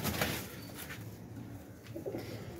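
Pigeons of an old Pakistani breed coo softly nearby, low throaty calls repeating over a faint background, with a brief flutter of wings.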